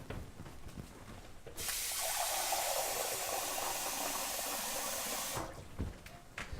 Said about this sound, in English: So we're gonna add 2 cups of water here.